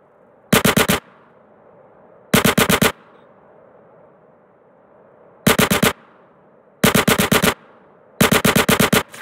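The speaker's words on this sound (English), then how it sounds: "That was a sniper bullet!" Five loud, sharp gunfire bursts in Grand Theft Auto: San Andreas, each a rapid cluster of shots, spaced irregularly over a low steady background hum with no talk.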